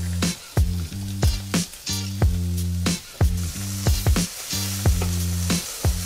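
Garlic sizzles in a pan with paprika for Hungarian lecsó, a steady hiss broken by regular sharp clicks and spatters, with a rhythmic tonal backing running underneath.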